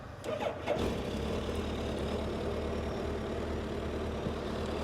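A 2008 Suzuki GSX1300R motorcycle with about 16,000 km on it is started, a brief cranking burst giving way to a steady, close, low engine idle that continues evenly.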